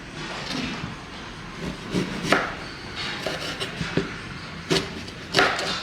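Raw green mango is cut into small pieces for pickle on a board, producing irregular close knife thuds and chops, some sharper than others, amid faint background rustle.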